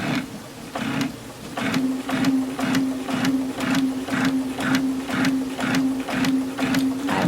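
A sewing machine stitches along a seam while sewing a garment, a steady rapid mechanical chatter with regular rhythmic pulses and a constant motor hum, close and alone.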